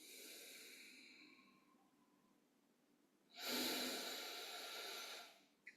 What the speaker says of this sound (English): Just take some deep inhalations in through the nose